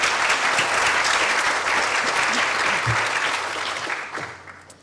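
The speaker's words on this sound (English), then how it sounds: "give a round of applause to Mehmet and Sarah also" Conference audience at a scientific session on weed–crop interaction applauding steadily, a dense sustained clapping that fills the room for several seconds before tapering off toward the end.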